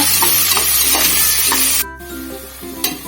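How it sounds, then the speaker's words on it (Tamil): Whole green chilies and onions fry in a pan for vegetable biryani, giving a loud, close, continuous sizzle with a few stirring clicks and a brief dip partway through. "அப்படியே முழுசாவே 4 பச்சை மிளகாய் இதுல போட்டு வதங்கலாங்க"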